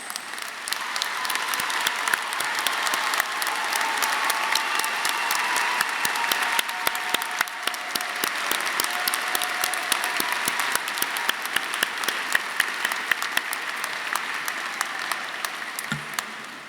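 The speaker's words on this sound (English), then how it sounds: "will the rest of us please join me in a round of applause for their excellence" An audience at a university undergraduate graduation ceremony gives a long, steady round of applause for award recipients, dense even clapping from a large crowd lasting well over fifteen seconds.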